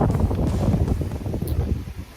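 Strong wind buffets the microphone outdoors during kayak fishing on a windy day, a steady low roaring rumble that stays loud and unbroken throughout, with faint watery wash beneath.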